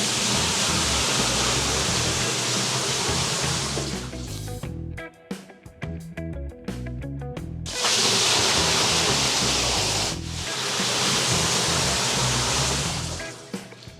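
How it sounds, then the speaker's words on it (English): Abrasive being poured into the water-filled basin of a vapor honing machine, a loud, steady rushing wash like pouring water, broken by a short stretch of quieter clattering before the rush resumes. "And then you just dump your abrasive in."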